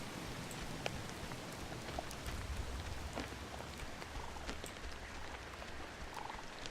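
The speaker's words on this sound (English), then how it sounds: "The rain sounds are nice." Steady rain patters from the video game Oxenfree, a faint, even wash of drops with scattered small ticks, continuous and without speech.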